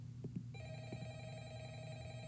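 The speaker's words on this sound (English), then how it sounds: "That ringtone sounds familiar." A synthetic electronic phone ringtone in a horror video game plays steadily at moderate volume over a low background hum, preceded by a few soft thuds.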